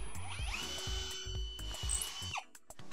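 Power drill boring through metal for a homemade rollerblade camera slider, a series of short grinding bursts with pauses between them, close and fairly loud, ending in a few sharp clicks.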